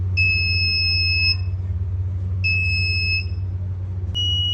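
Homemade smart blind stick with a light sensor sounds its buzzer in two long steady electronic beeps and then a shorter third one, loud and close, over a low constant hum.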